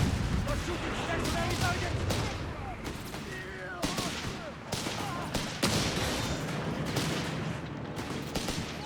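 Gunfire skirmish in Company of Heroes 3, Wehrmacht against British forces: dense, continuous bursts of rifle and machine-gun fire with occasional louder booms, layered under a steady battlefield din.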